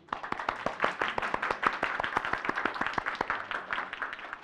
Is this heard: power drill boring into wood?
no